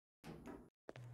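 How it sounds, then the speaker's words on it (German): A 2013 Otis Gen 2 Optima elevator door opening in a Roblox game: a soft half-second whoosh, a brief gap, then a second sharper onset that settles into a steady low hum, all fairly quiet. "Tür öffnet."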